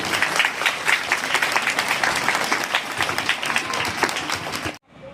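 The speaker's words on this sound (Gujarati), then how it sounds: "તો એક વખત ભાવિન સર માટે જોરદાર તાળીઓ" An audience at a book launch ceremony claps for the book's author, a steady crowd of hand claps continuing at even strength for several seconds before cutting off abruptly near the end.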